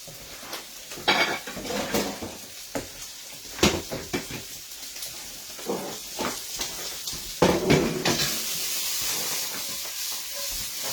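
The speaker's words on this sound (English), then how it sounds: "Oh, look at that black pudding. It's frying off absolutely beautifully." Black pudding fries in a pan with a steady sizzling hiss, broken by several sharp clatters of a utensil against the pan.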